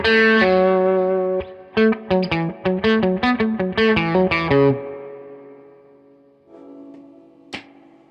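Electric guitar played through a Mosky Audio LM741 overdrive preamp distortion pedal: a loud, saturated sustained chord, then a quick run of choppy distorted stabs, then a ringing tail and a softer final chord with one sharp pick hit.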